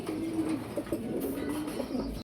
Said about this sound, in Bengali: একদম নতুন ডিম বাচ্চা করানো কবুতর